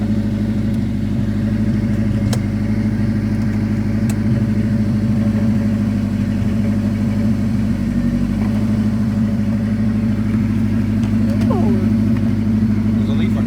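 A Corvette idles at a car meet with a steady, deep, even rumble held throughout, loud and close, while voices murmur faintly in the background.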